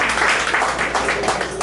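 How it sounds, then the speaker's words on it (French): Audience applause for Tommy at a surprise birthday party in Washington, a brief burst of many hands clapping densely and loudly, filling the room without any voices over it. "Est-ce qu'on peut applaudir pour Tommy?"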